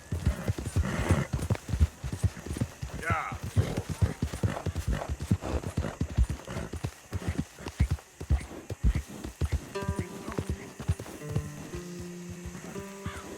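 Horse hooves galloping in the video game Red Dead Redemption II, a rapid rhythmic clip-clop close up and loud throughout, with a brief snort or whinny and a faint musical tone near the end.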